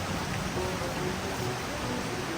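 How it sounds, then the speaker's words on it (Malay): Heavy rain in a mountain camping spot at night falls as a steady, dense hiss, close and even throughout, with no voices. "Hujan guys. Hujan."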